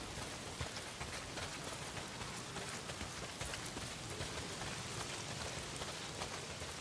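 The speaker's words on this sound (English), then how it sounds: "Well, not if it's pissing down rain." Heavy rain pours down in the survival video game Days Gone, a dense, continuous patter of drops hitting the ground with a few sharper splats, steady and enveloping with no voices.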